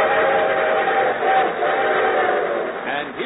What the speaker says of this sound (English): And here comes our star-studded show train.